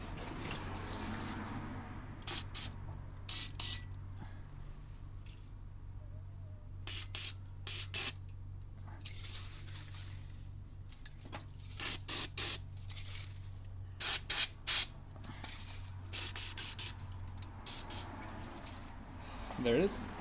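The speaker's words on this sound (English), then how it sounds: "We're gonna use some brake cleaner to clean that off." Brake cleaner sprayed in short hissing bursts onto rusty brake parts of a 2017 Honda Accord in a home garage, several separate spurts between quiet pauses over a low background hum.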